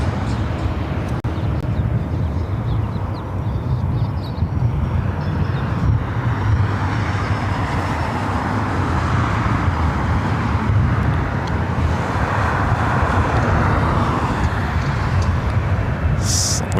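An airliner arrives at LAX airport, heard as a steady, distant jet roar blended with road traffic, unbroken for the whole stretch.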